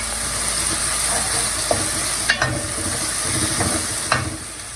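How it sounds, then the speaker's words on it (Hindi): Onion with ginger and garlic paste sizzles in a hot pan for a dhaba-style aloo keema, with a steady frying hiss broken by a few scraping stirs and clinks of the spoon. Close and continuous. "अब हम अदरक और लहसुन के साथ इसको भूनेंगे।"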